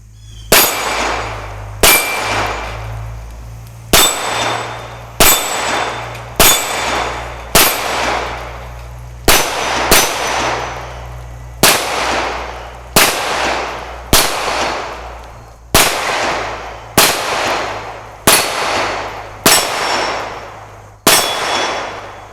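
A Sig Sauer P320 X5 Legion pistol fires about sixteen sharp, loud single shots at a steady, unhurried pace, each crack ringing out with a short metallic decay, with no talking.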